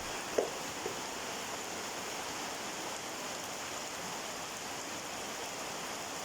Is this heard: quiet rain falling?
yes